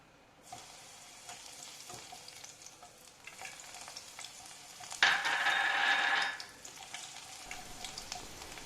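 Crushed garlic cloves dropped into hot oil while making kara boondi, giving a steady low sizzle that swells into a louder, bright crackling burst for about a second before settling back to a gentle fry.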